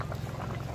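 A pot of jackfruit and goat liver curry boiling, giving a close, continuous bubbling burble with soft thick pops, brief and steady, with no voices.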